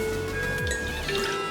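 Tequila poured into a cocktail shaker, a steady close liquid trickle with a faint drip pattern, running alone and unbroken throughout.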